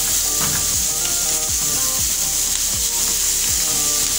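Savory crepe filling for a teriyaki-sauced dish sizzles in a pan while a wooden spatula stirs it in steady, repeated strokes roughly every half second, close and continuous, with no talking.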